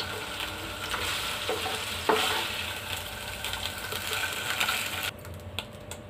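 Paneer fries in a pan with a steady sizzle and scattered stirring clicks. The sound is moderately quiet, continuous and unbroken by speech, and it drops off sharply near the end.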